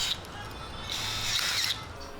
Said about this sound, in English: drilling the hole out so it will actually fit